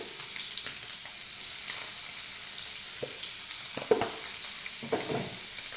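Paneer fries in an oiled pan with a steady, close sizzle. A few soft clinks of stirring come through near the end.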